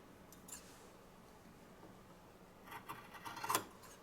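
Scissors snipping through quilting fabric strips on a table, a few soft crisp snips clustered near the end, quiet and close with no one talking.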